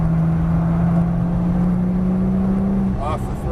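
A Porsche engine on a track accelerates as the throttle is rolled on, a steady mid-level drone rising slightly before easing near the end, with a coaching voice over it.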